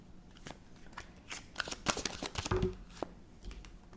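Tarot cards are shuffled close up in a rapid riffling, rustling flurry of papery slaps and flicks, with no talking.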